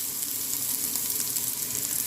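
Garlic, ginger and onion fry in a pan with a steady, close, dense sizzle that crackles evenly throughout, with no voices.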